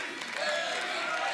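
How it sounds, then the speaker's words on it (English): A packed wrestling arena crowd cheers for the challenger in a dense, steady wall of noise during a 2014 SANADA vs. Austin Aries match, loud and unbroken for the whole moment. "You hear the crowd showing their support for the challenger"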